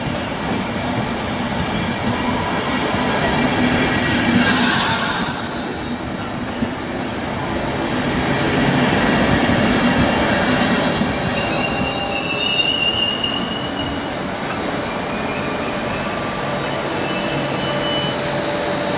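Sunday trains pass through Ciampino station near Rome, their wheels squealing steadily over a continuous rumble of rolling stock that stays loud and close throughout, with no voices.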